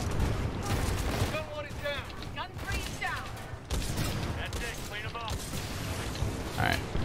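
Sniper rifle shots from the video game Titanfall 2 crack out in several sharp, loud bursts over busy in-game combat noise, with brief pauses between shots.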